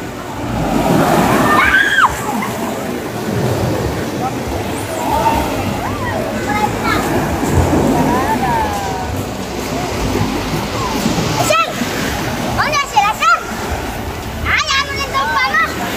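Sea water sloshing and splashing along the shore at a beach resort, a steady wash of surf under the whole stretch, with voices and someone speaking nearby and a few sharper splashes toward the end.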